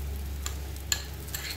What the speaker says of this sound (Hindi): एक से डेढ़ मिनट तक इसको भूनेंगे।